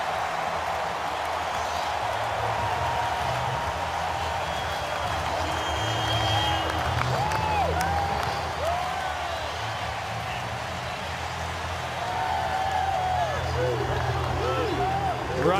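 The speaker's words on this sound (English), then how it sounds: "now this crowd knows when to be loud" Football stadium crowd roars and cheers after a Kansas City Chiefs touchdown, a sustained wash of distant noise running under steady play-by-play commentary.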